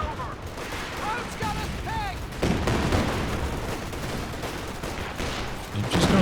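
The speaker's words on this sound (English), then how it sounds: "Machine gun." Dense machine gun fire crackles through a Company of Heroes 2 battle, continuous bursts layered with distant booms and chatter of combat, fairly loud throughout with a heavier blast near the end; a voice talks over it.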